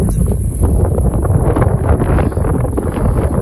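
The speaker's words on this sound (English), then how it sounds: "Ooh, nice and windy up here." Steady, blustery wind roars across the microphone on a hilltop, with a constant low rumble and gusty rustle, no voices.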